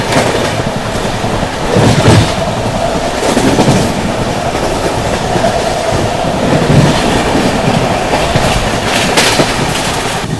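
Brahmaputra Mail express train speeding through Chunar Junction without stopping, a loud continuous rush of wheels and carriages with rhythmic clickety-clack over rail joints and occasional faint wheel squeal.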